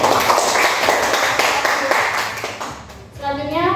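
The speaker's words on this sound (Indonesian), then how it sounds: "Ya, tepuk tangan dulu." A class of students claps together during a classroom guidance session, dense rapid clapping filling the room, then fading as a voice begins speaking near the end.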